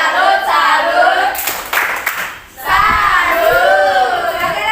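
An Indonesian classroom performs the 'tepuk salut' clap chant, a burst of rhythmic group clapping mixed with children's chanting voices, loud and close, with a brief dip before the chant and clapping resume.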